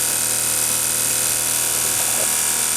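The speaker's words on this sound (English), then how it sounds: "Now the motor is going, the rotary switch is going 2394" An electric motor spins a rotary switch at about 2394 RPM as a steady, loud, continuous whir with a constant hum throughout. No one speaks.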